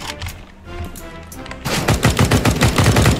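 Rapid gunfire in Counter-Strike: Global Offensive, a shotgun in a competitive match: a quieter burst of shots early on, then a loud, dense run of blasts over the last second and a half.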